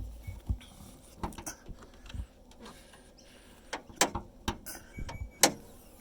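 The hood of a 2021 Mahindra Pik Up S6+ single cab 4x4 is popped and raised on gas struts, giving a scattered series of sharp latch clicks, knocks and clunks close by in a quiet setting.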